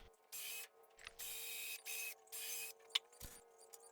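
Several short whirring bursts from a driver sinking 60mm coarse-thread treated pine wood screws into a timber barbecue stand frame, four or five spaced runs with brief pauses and a sharp click between, close and fairly quiet.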